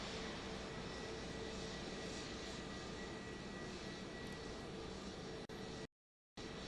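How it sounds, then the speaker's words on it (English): A royal jet taxiing across the tarmac at Joint Base Andrews, a steady, distant engine roar that holds evenly and then cuts out abruptly near the end. "Continuing to see this plane here making that long journey across the very big tarmac there at Joint Base Andrews with King Charle"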